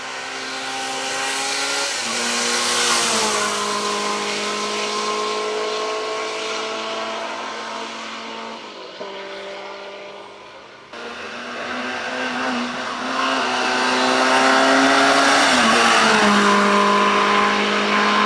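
Race car launching at a hill climb race, its engine revving hard through several rising gear pulls, with a brief dip before climbing again, loud and near, no talking.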